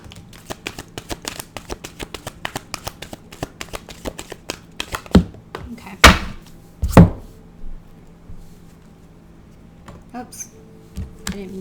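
Moonology oracle cards are shuffled in a quick run of soft riffling flicks, close and crisp, followed by a few louder slaps and thumps as cards are handled and set down.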